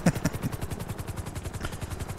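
A helicopter in GTA 5 flies a parkour skill-test course, its rotor beating in a fast, even chop of repeated pulses, moderately loud and alone.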